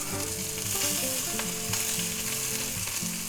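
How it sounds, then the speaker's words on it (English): Sirloin steak sizzling in a pan as it is basted with butter, a steady close crackling hiss with soft stirring scrapes, heard alone without talk. "we might as well put our butter on there and baste it with a little butter."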